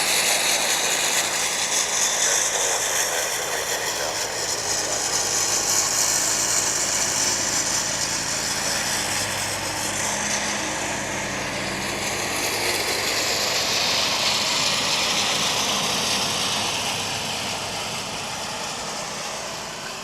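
An airliner arriving from Pittsburgh lands on runway 18 left at Dallas Fort Worth International Airport, a loud, steady broadband jet roar that fills the whole stretch and eases slightly toward the end.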